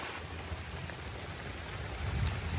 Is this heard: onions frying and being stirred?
no